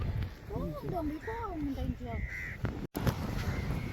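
Crows caw repeatedly near a seaside fishing spot, a string of harsh, clear calls close by against a constant outdoor roar, with people talking underneath.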